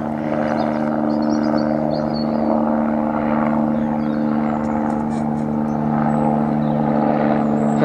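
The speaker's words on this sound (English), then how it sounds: "Helicopter." A helicopter drones steadily overhead, a constant low rotor and engine hum that holds throughout with no voices.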